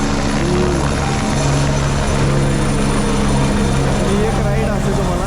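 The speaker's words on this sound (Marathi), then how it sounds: "हा हेलिकॉप्टर बघा, ते हेलिकॉप्टर दिसत आहेत." A helicopter flies near Phata on the Kedarnath route in the Himalayas, its rotor and engine drone steady and loud throughout, with talk mixed in over it.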